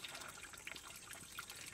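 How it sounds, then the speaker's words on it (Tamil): Dissolved tamarind water poured from a container into a pot for a stingray dry fish gravy, a brief soft splashing trickle with faint bubbly plinks, quiet and close. "புளிய கரைச்சு வச்சிருக்கிறேன் வாங்க ஊத்திடலாம்"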